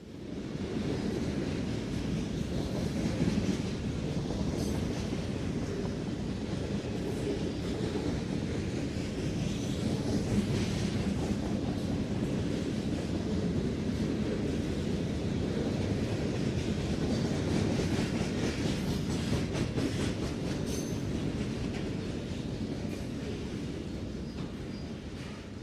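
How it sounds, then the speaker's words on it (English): Norfolk Southern freight train of center beam lumber flats and covered hoppers rolls past at night, a long, steady rumble and rattle of wagons that holds evenly for the whole stretch. "Most of this train is center beam flats of lumber for a distributor in Muncie and covered hoppers used to transport talc, plastic pellets, and sand."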